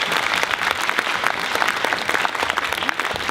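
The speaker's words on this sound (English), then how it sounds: "Can you give them a round of applause," An audience applauds performers on stage at a community link-up event, a loud, sustained, even roar of many hands clapping, close and filling the room without talk.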